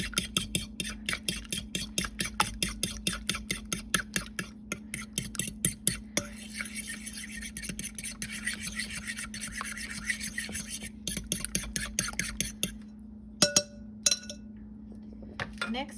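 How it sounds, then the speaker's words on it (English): An egg is whisked briskly in a medium-sized bowl, the metal whisk rasping and clinking against the sides in a quick, steady rhythm of close strokes that slows and breaks off near the end. "I'm going to just whisk up that egg to break up the yolk a little bit."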